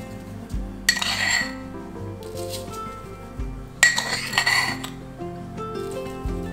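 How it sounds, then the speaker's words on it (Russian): Sugar and batter being whisked in a bowl: bright metallic clinks and scraping taps against the bowl come in two short busy bursts, with quieter clinking in between, close and alone. "Немного взбиваем."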